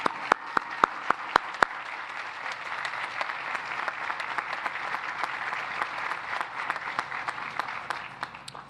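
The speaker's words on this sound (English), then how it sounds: "let's also give all those individuals, graduates in your network that helped you get to this point a round of applause" Sustained applause from a large audience at a 2021 university commencement ceremony, opening with a few sharp individual claps before swelling into a steady, even wash of clapping that lasts several seconds.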